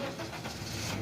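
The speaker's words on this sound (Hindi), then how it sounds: "अभी मैं इसको सेल्फ लगाता हूँ।" A 2021 Honda City cranking on its self-starter, a steady mid-pitched churn that keeps on for the whole short moment, fairly faint, with no voices.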